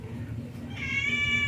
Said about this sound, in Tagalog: pasensya talaga maingay itong aming pusa